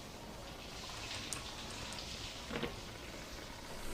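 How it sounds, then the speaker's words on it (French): Rain falls steadily in the horror video game Outlast, a soft continuous hiss of drops with a few faint clicks and splashes layered on top. "Là, il pleut."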